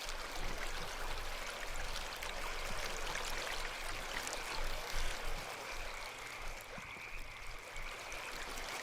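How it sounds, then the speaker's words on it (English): A loud, shallow river rushes in a Chilla's Art video game. The water gives a constant hissing roar that stays even throughout, with no clear voices. "Is this river really that big? I can't tell, but it's very loud for being probably not that deep."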